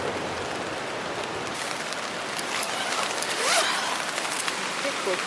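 Rain falls steadily at a riverside campsite, a broad even hiss of drops on surfaces that holds throughout, with a brief rustle partway through.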